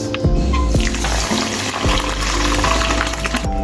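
Water swishes and splashes steadily as a bowl of store-bought wheat rava is rinsed clean in a kitchen, with a continuous wet rush and small sloshes and clinks throughout.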